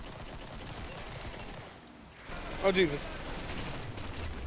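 Mac-11 gunfire in the video game Killing Floor rattles under a dense battle din, with a couple of sharper bursts near the middle; someone speaks briefly.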